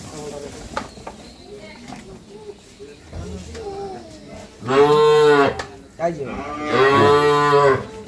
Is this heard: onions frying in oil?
no